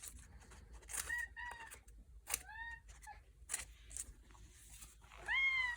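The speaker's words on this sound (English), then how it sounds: "Stop with the cat." A cat gives several short mewing calls with rising and falling pitch, fairly close but soft, spaced apart among faint rustling and clicks in a quiet room.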